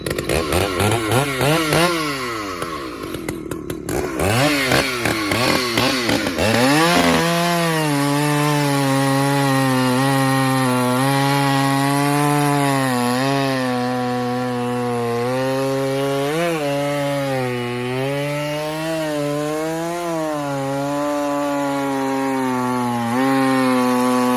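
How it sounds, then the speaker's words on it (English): An old Husqvarna 2100 chainsaw with a 16-inch bar and .404 skip-tooth chain idles and revs loudly up close, its engine note rising and falling with a steady throbbing rumble, running continuously after a brief startup. "The Harley of chainsaws. Hear that thing?"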